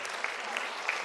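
Brief burst of audience applause for a schoolgirl from Sacred Heart School at a school quiz event, steady clapping texture throughout with no talk over it.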